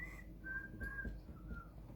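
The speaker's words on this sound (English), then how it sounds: "it's got this brilliant introduction, which is whistled" A whistled tune from a cartoon introduction, a few clear sustained notes of a catchy little riff, close and alone with no talk.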